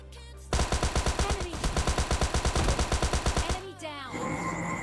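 Rapid automatic gunfire in the mobile game PUBG Mobile Lite, a loud, close burst of evenly spaced shots lasting about three seconds and then cutting off, followed by softer game effects.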